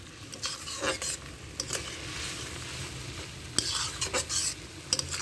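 Tomato and spice paste with a little sugar is stir-fried for a broiler chicken curry. A spatula scrapes the pan in loud, repeated strokes over a constant sizzle, with no talking.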